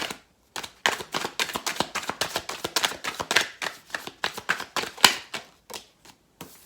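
A tarot card deck being shuffled by hand, a close, loud run of rapid crisp riffling bursts and snaps in irregular clusters, with no talk.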